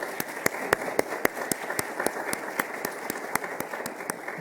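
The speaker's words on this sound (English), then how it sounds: "let's give them all a round of applause" Audience applause at a conference opening plenary, heard as sparse, evenly spaced, crisp claps in a steady rhythm, moderately quiet, over a soft room hush.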